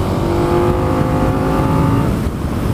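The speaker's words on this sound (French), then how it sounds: "Cette nouvelle boîte là, tu as un bruit d'induction." A 2020 KTM 1290 Super Duke R motorcycle engine gives off a loud, continuous induction roar through its larger airbox, a steady throaty drone without speech.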